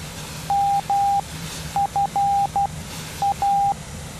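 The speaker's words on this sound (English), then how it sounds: "How's the Morse code identification for our radio nav? I just pressed it for you to hear." Morse code identifier for a radio navigation beacon in the GeoFS flight simulator, flying a Dassault/Dornier Alpha Jet: clean steady beeps in short and long groups, three clusters of dots and dashes over a low engine hum.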